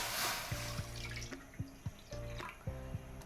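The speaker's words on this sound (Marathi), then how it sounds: "यामध्ये आपण पाणी घालून घेऊया" Water poured from a small vessel into a pan for village-style spinach bhaji: a close, splashing trickle, with gurgling, ringing tones as the pan fills in short bursts.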